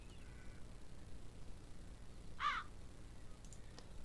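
A single crow caws once, brief and faint against a quiet background, in the adventure video game The Dark Eye: Chains of Satinav.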